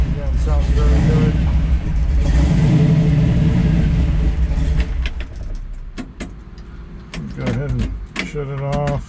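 A 1956 Chevrolet 3100 pickup runs close by with a loud, deep engine rumble for several seconds, then settles to a quieter idle while someone talks.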